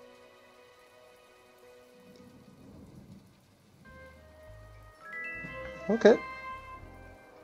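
Rain and thunder fall over a desert in the video game My Time At Portia, steady rain hiss under background game music, with a sharp thunderclap near the end and a person speaking briefly.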